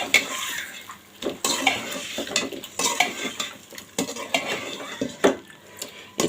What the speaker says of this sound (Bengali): এটা আমি খুব ভালো করে কষায় নিব।